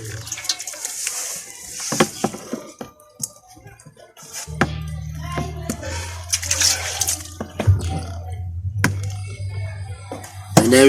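An Achatina snail, a West African land snail, is washed with water: intermittent splashing and trickling with a few sharp drips and handling noises, close up, with a low hum running underneath.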